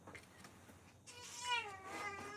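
A female cat meows once, a drawn-out rising and falling cry after a brief moment of quiet rustling.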